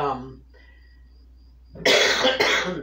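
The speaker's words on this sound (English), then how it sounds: "I cough and I wheeze" A person gives a short, harsh burst of coughing close to the microphone, after a brief spoken phrase and a quiet pause.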